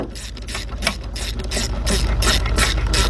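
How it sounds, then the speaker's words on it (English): A 3/8-inch drive ratchet with a swivel tightens valve cover bolts on a Chrysler-family engine, giving a steady run of close, rapid pawl clicks that carries on without a break. "I'm using my 3/8 drive ratchet"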